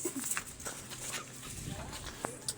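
A small dog fusses playfully indoors with brief yips and whimpers, quiet and close, while people talk softly around it.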